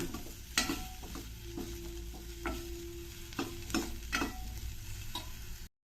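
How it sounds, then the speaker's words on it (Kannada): Onions and garlic fry in a pan for a pumpkin and field-bean bassaru, giving a soft steady sizzle broken by intermittent scraping and tapping stir strokes, heard close, with no talking. "ಸ್ವಲ್ಪ ಈರುಳ್ಳಿ ಚೆನ್ನಾಗಿ ಫ್ರೈ ಆಗಬೇಕು, ಅಲ್ಲಿ ತನಕ ಇದನ್ನು ಸ್ವಲ್ಪ ಹುರ್ಕೊಳ್ಳೋಣ"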